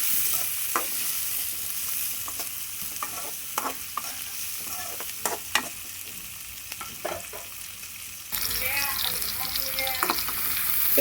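Cut onions fry and sizzle steadily in a pan for Andhra-style chicken gravy, with repeated scraping and stirring strokes, close and continuous, growing louder near the end.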